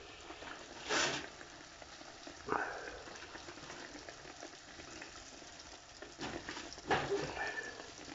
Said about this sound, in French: Vous aurez besoin simplement d'une casserole avec de l'huile que vous faites chauffer avant. Et vous mettez vos beignets